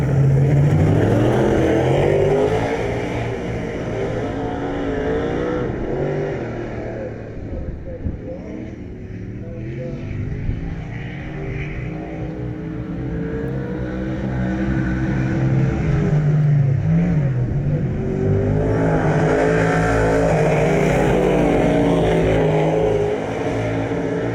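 Speedway race cars racing at Bega speedway, engines roaring loud and continuous as they lap, the pitch rising and falling while cars pass, with commentary or crowd voices faint beneath.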